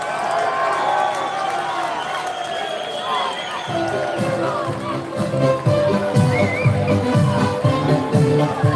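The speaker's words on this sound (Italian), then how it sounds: "Accogliamo con un fortissimo applauso Gigione!" Outdoor piazza crowd in Tufara cheering and applauding as the performer Gigione is welcomed on stage, with a steady roar of voices and clapping building louder over several seconds.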